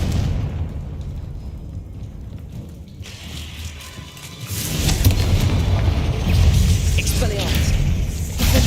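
Confringo fire-blast spell cast in the Hogwarts Legacy video game, bursting into a loud, roaring blast about halfway through and holding as a dense, sustained rumble after a quieter, muffled stretch.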